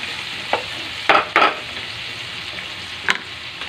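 Pork stirred into tomatoes in a frying pan: a steady close sizzle with a few sharp scraping strokes of the spatula scattered over the cooking noise.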